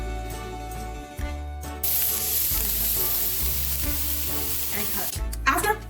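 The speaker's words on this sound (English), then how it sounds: "After that, you are going to fry it into a pan for 3 to 5 minutes." Green onion and yellow onion fry in a pan, giving a steady loud sizzle that rises abruptly and holds, with a low hum beneath and a brief clatter at the end.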